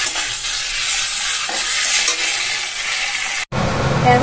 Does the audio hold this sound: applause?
no